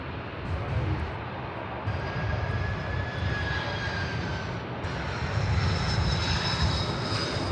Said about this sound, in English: A330-200 from Melbourne.